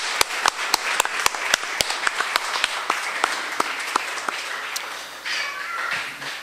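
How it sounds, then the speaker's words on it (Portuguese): A church congregation in Anápolis applauds, with sharp, regular claps in an even rhythm standing out near the front. The clapping then dissolves into a broader, softer wash of crowd noise. "Então vamos dar uma salva de palmas para Jesus"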